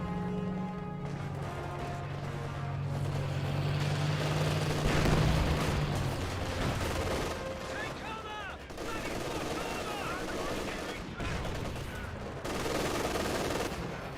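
Vickers heavy machine gun fire and other battle sounds from Company of Heroes 2 rattle in repeated bursts amid explosions and rumbling, with someone talking over much of the chaos.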